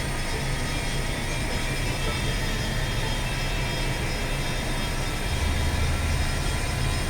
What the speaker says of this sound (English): Good, the engine's kicked over.